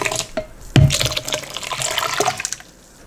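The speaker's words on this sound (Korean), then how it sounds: "이제 갈았는 거를 부어줍니다." A blended mixture is poured into water kimchi made with baby napa cabbage, giving a close liquid splash and glugging pour that lasts a couple of seconds before trailing off.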